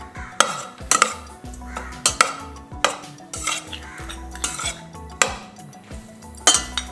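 Cauliflower being stirred with pepper and spices in a pan, a spoon scraping and clinking against the metal in a steady, repeated rhythm of sharp strokes, close by and fairly loud, with no talking.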